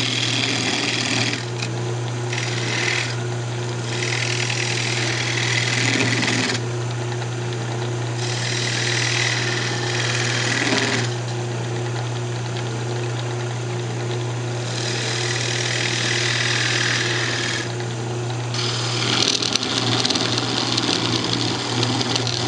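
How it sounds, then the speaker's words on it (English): Wood lathe spinning while a tool parts off a turned wooden Christmas ornament: a steady motor hum underneath, with louder scraping bursts of cutting that come and go in stretches. "I'm just going to go ahead and part it off now."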